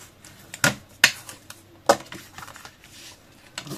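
A few sharp taps and scratchy strokes from a tool scoring fold lines into scrapbook paper for a booklet, spaced irregularly and fairly close, with quiet pauses between them.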